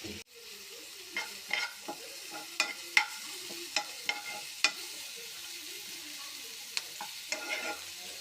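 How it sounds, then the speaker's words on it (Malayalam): Curry leaves frying in a pan for a mushroom-style curry, a steady close sizzle with sharp crackling pops and spatula scrapes scattered throughout, no voices. "രണ്ട് രണ്ട് കറിവേപ്പിലയും കൂടി ഇട്ട് കൊടുത്തിട്ടുണ്ട് ഇതൊന്ന് നല്ലപോലെ ഫ്രൈ ആയിട്ടെടുക്കാം"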